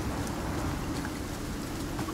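Steady rain hisses in the survival game Icarus during a wolf hunt, a continuous even wash of falling water with no voices.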